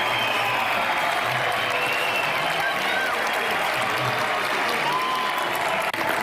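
A large crowd at an Argentine political gathering keeps up steady, dense clapping, with scattered sharp whistles cutting through and a faint murmur of voices beneath.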